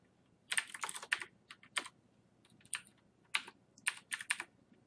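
Computer keyboard typing in quick bursts of clicking keystrokes with short pauses between, close and fairly clear, no voices.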